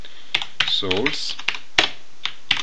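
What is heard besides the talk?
typing a command on a computer keyboard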